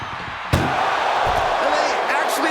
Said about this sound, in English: Oh, what a powerhouse collision.